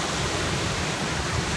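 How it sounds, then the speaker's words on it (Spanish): Steady, soft wash of sea waves under light rain, a continuous broadband hiss with no distinct breaks, fairly distant and even in loudness. "El mar, está lloviendo un poquito."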